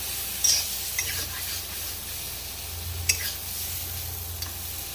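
Sindhi-style cauliflower and potato sabzi fries in ghee with a soft, continuous sizzle and a few quick stirring scrapes, heard quietly and close.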